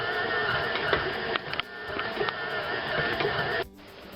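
A bread machine kneads sticky sourdough honey quinoa dough, giving a steady mechanical hum with rhythmic thumps and knocks. The motor runs close and even, then drops off near the end.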